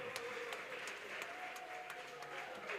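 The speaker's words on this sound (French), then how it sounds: "est-ce que vous pouvez applaudir pour lui?" Festival crowd at the Couleurs du Congo (Festi Coco) event applauding a performer: faint, distant clapping with scattered sharper claps over a soft sustained tone, steady for a few seconds.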